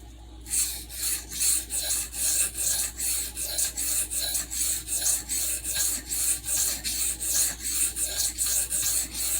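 A denim Micarta work knife is drawn quickly across a sharpening stone in a steady run of close, rhythmic rasping strokes, each one a short scraping swell, with no talking.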